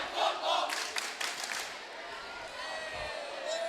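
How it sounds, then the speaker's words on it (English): Fans in a high school gym cheer and shout at a girls volleyball playoff match between Champlin Park and Osseo, a broad crowd roar with bursts of whistles and yells, steady and fairly loud throughout. "I feel like the fans are cheering just like football"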